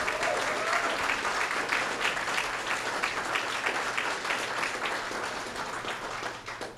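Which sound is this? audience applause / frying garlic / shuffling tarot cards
audience applause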